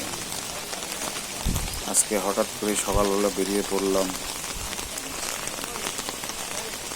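Steady rain patters and hisses throughout at Santahar railway station colony, Bangladesh, with a person speaking briefly in the middle over the downpour.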